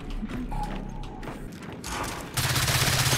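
Gunfire in the video game Gears 5, dense rapid bursts and thuds that grow into a louder rattling volley toward the end.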